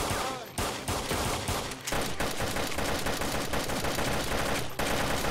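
Rapid bursts of automatic gunfire from the survival video game DayZ rattle almost without pause, loud and dense, with a couple of brief gaps between volleys.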